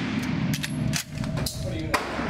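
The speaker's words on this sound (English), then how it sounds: "Hope you guys enjoyed that video of me shooting that rifle." Sharp cracks from a Lee Enfield No4 Mk1 rifle being fired sound in quick succession, mixed with outdoor background noise and people talking.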